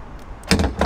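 A Corvette C8's front trunk pops open after its hidden release button is pressed, a short nearby thunk with a second softer knock just after, following a faint quiet lead-in.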